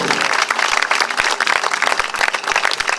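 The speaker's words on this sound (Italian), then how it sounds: "E ce lo metteremo, un applauso, ce lo mettiamo." An audience at an evening awards ceremony in Agrigento bursts into loud, dense applause, many hands clapping continuously and close, with sharp individual claps standing out in the steady roar.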